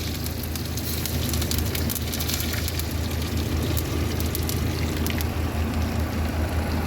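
Mustard seeds, cumin and curry leaves frying in hot oil for a Tamil-style ash gourd kootu give a steady, dense crackling sizzle throughout, with scattered sharper pops over a constant hiss.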